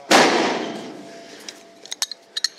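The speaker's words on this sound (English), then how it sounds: "You just swap out the barrel here." A Glock pistol barrel swapped by hand for a 10mm conversion: one loud metallic clack opens, a ringing decay follows, then several small sharp clicks of parts seating close by.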